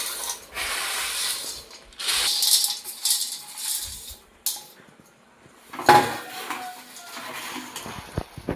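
Boondi stirred with jaggery syrup in a hot pan for bellam boondi sweet, producing rattling, scraping bursts of a spoon against metal that come and go, with a sharper clank partway through.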